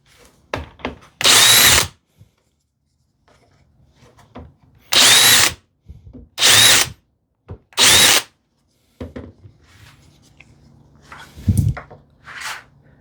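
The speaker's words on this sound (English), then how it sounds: "I'll just countersink that a little bit" A power drill countersinks a screw hole in wood, running in four short whirring bursts of a second or so each, close and loud, with quiet handling and wooden knocks between them.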